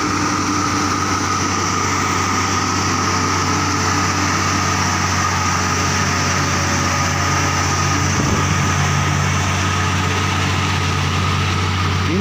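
A heavily loaded 250 HP truck registered in Rajasthan climbs a mountain ghat road, its engine holding a steady, loud, unbroken drone throughout, heard from close by with no talk.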